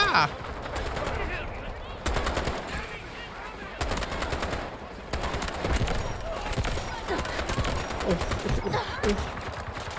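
Scar rifle gunfire in Delta Force comes in rapid, sustained automatic bursts separated by brief pauses, loud and close throughout, with voices talking underneath.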